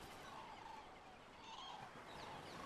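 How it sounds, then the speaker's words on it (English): Assorted bird calls in the Ark survival game environment, faint chirps and warbling tones scattered over a steady background ambience, with no voices present. "I hear all these birds and crap"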